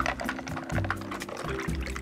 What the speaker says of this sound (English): We need more cold water.